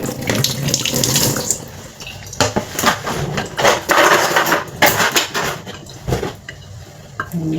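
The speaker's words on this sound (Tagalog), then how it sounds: "So, palawan ko lang mainit na tubig yung dala." Hot water poured into a teapot while making karak tea, a steady close splashing stream broken by a few clinks of a cup or pot.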